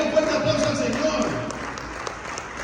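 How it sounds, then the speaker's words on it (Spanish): A church congregation breaks into applause during a sermon, a warm, continuous wash of many hands clapping at moderate volume, with some voices mixed in. "Den un fuerte aplauso al Señor."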